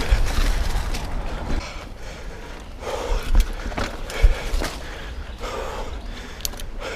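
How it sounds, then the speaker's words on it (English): Mountain biker panting while riding a muddy woodland trail, with heavy breathing mixed into rustling, rattling bike noise and wind, fairly close and irregular, with no talk. "aside from me panting"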